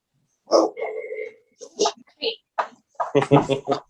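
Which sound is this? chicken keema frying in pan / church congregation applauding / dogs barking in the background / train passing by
dogs barking in the background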